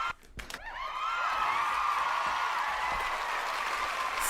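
Studio audience applause at a battle rap talk show, a dense wash of clapping that swells in after a brief start and holds steady and loud to the end.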